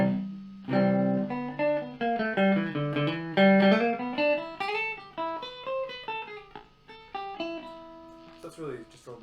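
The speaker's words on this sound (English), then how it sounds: "Short delay all the way down. Turn the feedback up so you can really hear it." An electric guitar plays a run of plucked melodic notes through a Guyatone MDM5 Micro Delay pedal set to a short delay time with high feedback, each note trailed by a brief smeared repeat.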